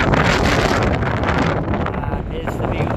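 High wind blows outdoors on the Isle of Man, roaring steadily across the microphone as a loud, continuous buffeting rush that eases slightly near the end.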